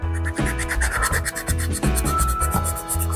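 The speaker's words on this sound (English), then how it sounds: "So I'm just scuffing it up really well" Close hand scuffing of a surface to prep it for paint, rough raspy rubbing strokes repeating roughly every half second, heard alone with a steady tone in the background.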